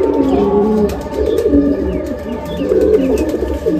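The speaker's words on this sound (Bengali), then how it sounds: "এটা মাদি পায়রা" Female Madrasi pigeon cooing in a steady stream of low, throaty, rolling coos, close and fairly loud, with faint background chirps and no talk.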